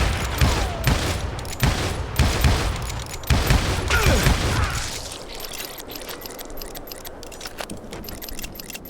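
Gunfire in the Western shooter game Call of Juarez: Gunslinger, a rapid volley of sharp shots and booms for several seconds, then sparser scattered cracks over quieter mechanical clatter.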